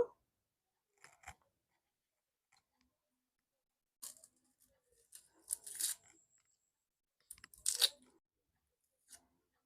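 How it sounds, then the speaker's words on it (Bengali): Dry onion skins being peeled by hand in a kitchen, giving sparse papery crackles and crisp tearing bursts separated by quiet pauses, close and fairly soft. "এবারে পেঁয়াজের খোসাগুলো ছাড়িয়ে নেব"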